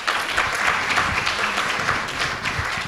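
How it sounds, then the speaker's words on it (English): An audience applauds a panel at an early childhood education policy event, with brisk, dense clapping sustained at a steady level through the short stretch. "Round of applause for the panel."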